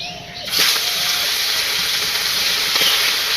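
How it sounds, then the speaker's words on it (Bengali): Native koi fish hitting hot oil in a pan, breaking into a loud, steady hiss and sizzle that carries on close and unbroken. "এখন দেশি কই মাছ ভাজি করবো"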